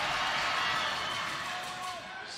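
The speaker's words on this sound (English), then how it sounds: "The crowd has gone crazy here at the Knight Center" A loud crowd roars inside a volleyball arena, the Knight Center, during a Pitt versus Miami match. The dense, sustained cheering fills the clip while a commentator talks over it.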